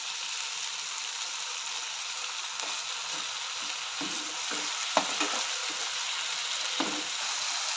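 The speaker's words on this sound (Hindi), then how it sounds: "एबे मु पेस्ट करी रखिथिबा काजू और मगज को पकई दूची।" Cashew and melon seed paste frying in oil in a pan, a steady bright sizzle with occasional soft stirring taps and small pops, close and continuous with no talking.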